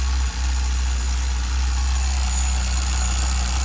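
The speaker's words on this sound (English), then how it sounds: "Trying to teach this bitch to idle low." A Tamiya TGS-R nitro engine idles low and steady during run-in, a continuous close buzzing drone that holds for the whole stretch with no voices over it.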